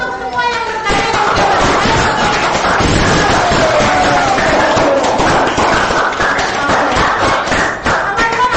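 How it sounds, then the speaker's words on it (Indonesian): Classroom of students clapping together in applause, a dense sustained patter of many hands lasting several seconds, with voices mixed in underneath. "Kasih tepuk tangan untuk semua yang bertanya"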